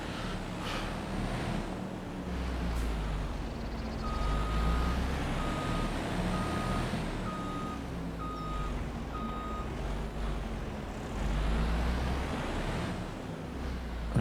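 A truck in Farming Simulator 25 reversing a trailer, with a steady diesel engine rumble under a regular series of evenly spaced reversing beeps, close and continuous.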